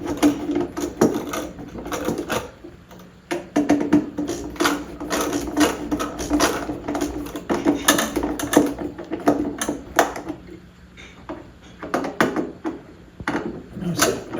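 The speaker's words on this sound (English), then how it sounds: "I'm just tightening this bracket up in place, approximately where I think it will go." Metal bracket being tightened in place with a hand tool during a kitchen track light installation, giving close, repeated ratcheting clicks and mechanical rattles that continue in bursts throughout, with no talk.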